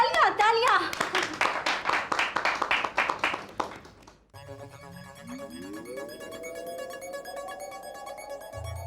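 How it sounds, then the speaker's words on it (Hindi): Rhythmic hand clapping mixes with children's voices for several seconds in a comedy TV scene. It then gives way to a sustained, rising synthetic tone. "तालियां तालियां।"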